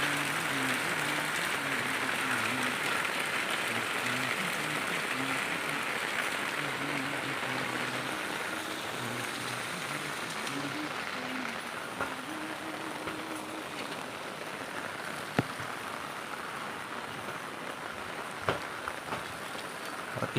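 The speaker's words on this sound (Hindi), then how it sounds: "आज हमारे यहाँ रायबरेली ज़िले में हो रही है बहुत तेज़ बारिश।" Very heavy monsoon rain pours down in Raebareli district, India, with floodwater everywhere, making a dense, steady roaring hiss throughout, with faint low murmuring beneath and occasional sharper drips or splashes.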